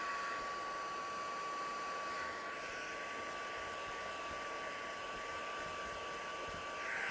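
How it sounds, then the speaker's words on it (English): A heat gun for card making runs continuously while warming up, a steady blowing whoosh with a fixed whine, unchanging and moderately quiet with no talk. "let's go with our heat gun. So we're going to give the girl a couple of seconds to warm up and get to heat."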